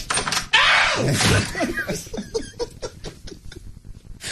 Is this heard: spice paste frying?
no